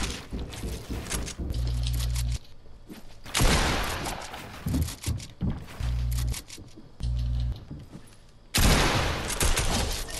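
SMG gunfire in Fortnite: loud, close bursts of rapid submachine-gun shots in several volleys, broken by short pauses and low buzzing gaps, with sharp sustained crackle between.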